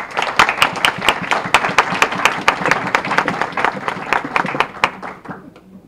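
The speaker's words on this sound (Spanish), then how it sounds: "yo quiero un aplauso para ustedes mismos" A crowd at a Dominican diaspora anniversary gathering in New York claps loudly, with sharp individual hand claps standing out in a fairly rhythmic burst that thins and fades toward the end.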